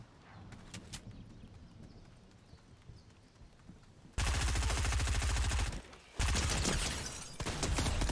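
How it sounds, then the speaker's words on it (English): Heavy shotguns blasting in a fast video game firefight, loud broadband bursts of gunfire dominating the second half after quieter game ambience, with a brief gap between volleys. "I'm running three shotguns"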